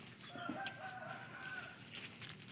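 Chickens at a coop beside a rural house, with a rooster crowing faintly in the distance over a soft, steady outdoor background.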